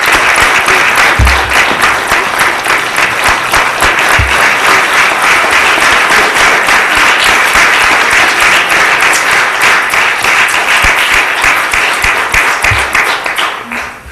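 An audience at a council meeting claps loudly and steadily for about fourteen seconds. The applause is dense and sustained and tapers off at the end.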